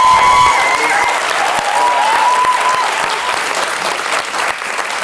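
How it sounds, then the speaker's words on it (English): A festival panel audience at the Edinburgh TV Festival bursts into sustained, loud applause and cheering that fills the room steadily for the whole stretch with no break. "we're going to give them loads of applause"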